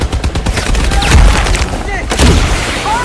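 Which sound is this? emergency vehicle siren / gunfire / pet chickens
gunfire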